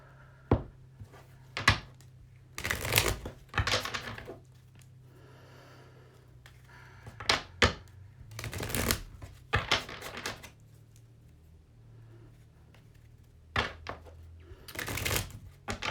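Tarot cards are shuffled and handled in repeated short bursts of papery riffling and flicking, close and moderately loud, separated by quiet pauses.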